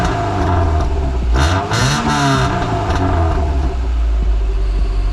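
A Subaru Impreza engine revs up through a newly fitted exhaust, a deep rumbling roar that rises and falls in a burst before settling back to a steady idle.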